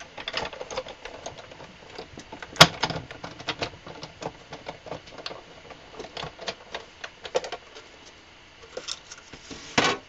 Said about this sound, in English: I'm going to send this through the Big Shot one more time.